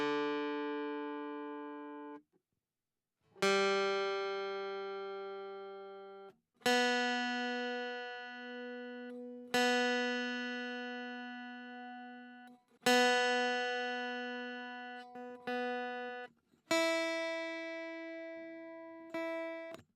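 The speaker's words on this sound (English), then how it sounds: "So all the sounds you're going to hear are coming from this guitar." Dry LAVA Me 4 Carbon guitar fed straight into an audio interface: six clean, sustained plucked notes or chords, each ringing out and decaying alone, close and clear with short gaps between.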